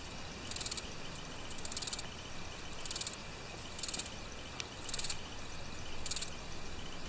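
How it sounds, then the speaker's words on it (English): Grasshoppers chirp in short buzzing bursts, about six evenly spaced pulses roughly a second apart, faint and alone against a quiet outdoor background. "That's how grasshoppers chirp."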